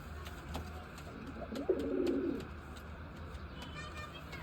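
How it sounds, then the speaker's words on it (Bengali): A pair of pigeons coos once, a soft rolling call lasting under a second, heard at moderate distance over a quiet, faintly noisy background. "আর এখানে এক জোড়া কবুতর আবার দেখেন"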